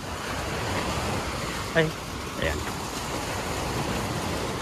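Sea waves at a beach resort in Negros Occidental, a steady wash of surf with wind noise across the microphone, close and continuous, while a voice briefly speaks over it.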